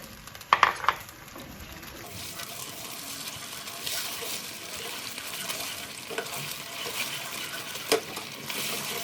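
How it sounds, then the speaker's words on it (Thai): Cornstarch-and-water slurry poured slowly into a pan of oyster sauce for Hong Kong kale, a soft liquid pour and bubbling sizzle running steadily at moderate level, with a few sharper clinks near the start. "อันนี้จะเป็นแป้งข้าวโพดผสมน้ำค่ะ ก็ค่อยๆเทลงไปค่ะ"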